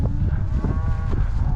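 A cow on a cattle ranch lets out a close, loud, drawn-out moo over rumbling low background noise, with no speech.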